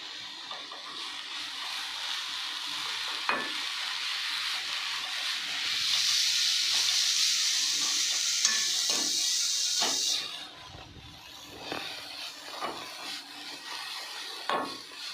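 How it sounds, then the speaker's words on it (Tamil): Mudavattukal tuber sautéing in a pan with a little salt, a steady close hiss and sizzle broken by scraping, knocking stirs of a spoon against the pan, louder for a few seconds mid-way. "லைட்டாக வதக்கியாச்சுங்க, லைட்டாக வதக்கியாச்சு."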